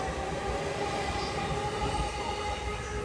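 A 15-car Joban Line commuter train rolls into a station platform with a steady rumble and high metallic wheel squeal, close and continuous throughout.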